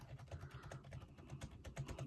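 Typing on a Logitech K780 keyboard: a quick, quiet, steady patter of soft key clicks heard close up with no talking.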